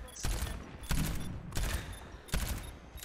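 Four sharp gunshot bursts from the Overwatch video game, evenly spaced and close, each with a short ringing tail.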